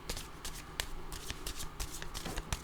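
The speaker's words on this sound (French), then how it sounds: "Je vais piger une autre carte pour ici." Playing cards being shuffled and drawn from a deck during a card reading, crisp riffling flicks and snaps repeating close up at an uneven pace, with no voices.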